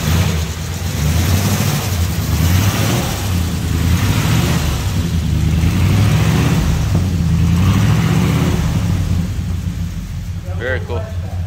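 A 1936 Ford 5-window coupe with a flathead engine runs with a steady, loud, close low rumble that continues throughout.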